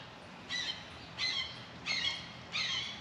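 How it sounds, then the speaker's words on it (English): Four harsh squawks from birds at a campsite at Jordan Lake State Recreation Area in North Carolina come evenly spaced, each short and fairly faint, over a quiet outdoor background. "And these birds are still going crazy."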